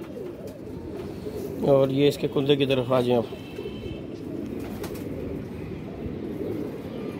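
Flying pigeons cooing in a short burst of throaty, rolling coos near the middle, close by, with someone talking over and around them.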